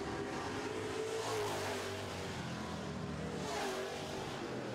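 Super trucks racing on an oval racetrack in a feature event, giving a continuous engine roar with rising and falling pitch as the trucks circle, heard from a distance with no voices.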